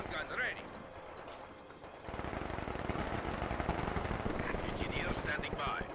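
Machine gun fire in the Company of Heroes 2 real-time strategy game, sustained rapid bursts of rattling shots that thicken partway through, over battlefield ambience and brief unit voice lines.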